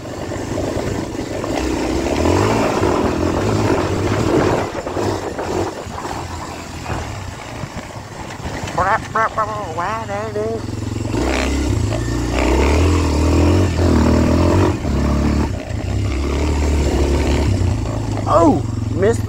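Kawasaki KLX230R dirt bike ripping along a backwoods trail, its engine loud and close, revving up and down through gears with rough bursts, while a rider talks over it at times.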